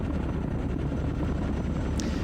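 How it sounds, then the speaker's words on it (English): A steady, loud helicopter rotor and engine drone from the Squad Battles Tour of Duty video game, continuous and unbroken throughout, with no voices. "Let's get this chopper here."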